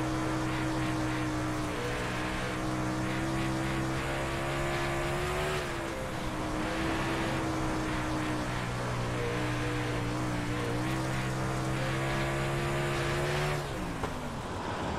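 Super late model race car engine on a Bristol dirt track in a racing video game, a loud, sustained drone with steady harmonic pitch that dips briefly at shifts and drops off sharply at the end, with no talk.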